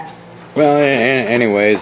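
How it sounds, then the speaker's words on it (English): A dog gives a loud, drawn-out whining yelp close by in a room, holding a wavering tone for over a second, following a person's brief speech. "sorry for the dog interruption."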